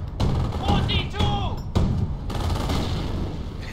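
Mortar fire in a military strategy video game, with repeated heavy thumps and blasts layered with battle noise and whistling tones, loud and continuous throughout.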